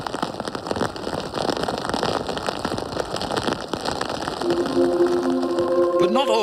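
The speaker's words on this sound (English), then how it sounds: "As the rain continues to beat down" Heavy rain beats down steadily over the course of an Ironman triathlon in New Zealand, a dense continuous hiss with a narrator talking over it, and tonal whistles or horns rise near the end.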